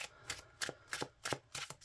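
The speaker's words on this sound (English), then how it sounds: "one quick shuffle" A deck of Yu-Gi-Oh! trading cards gets a quick shuffle, a rapid run of soft riffling flicks close to the microphone, quiet and brief.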